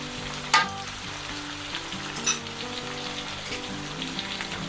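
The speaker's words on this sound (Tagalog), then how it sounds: "Ngayon ay maglalagay na po ako ng chili garlic na 2 tablespoon." Chili garlic, two tablespoons, sizzles in a pan over lowered heat for squid adobo, a steady hiss of frying with a couple of sharp spatula scrapes and clinks near the start.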